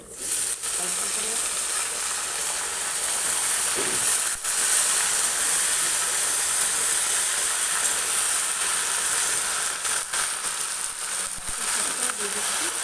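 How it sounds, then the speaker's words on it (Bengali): Jute leaves dropped into a pan of onion and garlic already fried reddish, giving a steady broad sizzle and hiss that runs the whole time, close and fairly loud with little variation. "আর আমি এখানে এখন দিয়ে দিচ্ছি পাট শাক, ধরে দিয়ে দিচ্ছি অল্প করে।"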